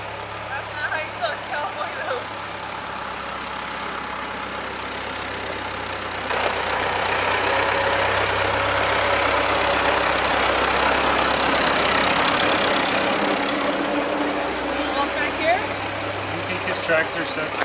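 A tractor engine runs steadily at a vineyard near San Miguel de Allende, Mexico, a continuous mid-low rumble that grows louder partway through, with people talking over it.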